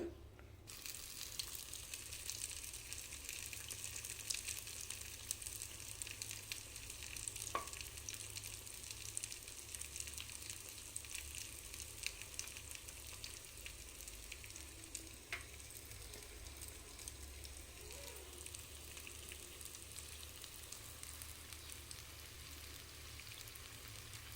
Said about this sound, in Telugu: ఈ లడ్డూలను ఒక్కొక్కటిగా తీసుకొని ఆయిల్లోకి వేసుకోవాలి